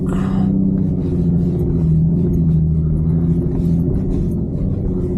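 An off-road vehicle with lockers engaged climbs a snowy slope in Wyoming, its engine a steady, loud low rumble that holds continuously throughout with slight rises in pitch.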